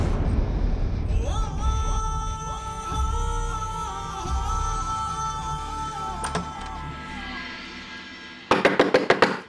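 A quick series of about six sharp, loud knocks on a door comes at the very end, after a stretch of sustained background music in a Hindi TV drama scene.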